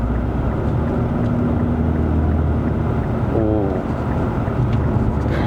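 Infiniti Q50 2.0T GT accelerating in manual mode, a steady engine hum under heavy cabin wind rush, with a brief rising shift-like tone midway.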